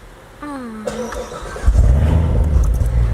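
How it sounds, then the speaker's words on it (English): A car engine cranks and catches, then settles into a loud, steady idle with a low rumble that swells slightly as it revs; a brief voice-like tone is heard before it starts. "getting the engines going early"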